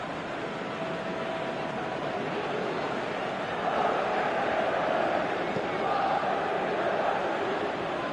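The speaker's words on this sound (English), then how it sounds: "at least the crowd are appreciative of his efforts" Stadium crowd in a PS4 football video game, a steady broad roar of cheering and murmur that swells slightly midway, continuous throughout with no clear talk over it.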